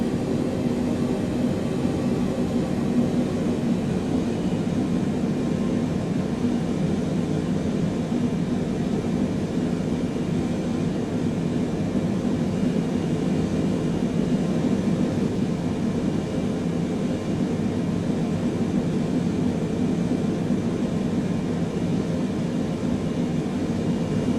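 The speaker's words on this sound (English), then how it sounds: "let's go ahead and start our taxi to the runway now" A Boeing 777 taxiing toward the runway in Microsoft Flight Simulator 2020, with a steady, even engine roar and rumble that holds constant throughout, with no talk.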